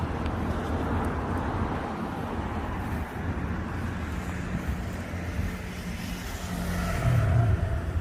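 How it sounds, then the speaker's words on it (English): A pickup truck drives along a south Florida canal and slows to a stop, with a steady engine rumble and road noise throughout that swells slightly near the end. "Give me a second to stop the truck."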